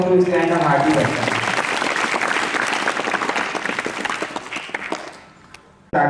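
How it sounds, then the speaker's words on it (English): An audience at an educational and life skills session in Raipur claps to welcome a guest speaker, brisk, sustained applause with a brief voice at the start, fading out near the end before a short sound at the close. "Once again, huge round of applause to extend a hearty welcome."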